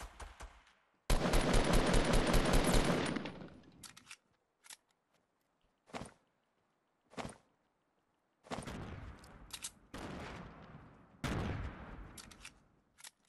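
Fortnite gameplay with bursts of gunfire in sniper combat. A long rattling volley is followed by scattered single sharp shots and later more clustered bursts, with quiet gaps in between and no talk over them.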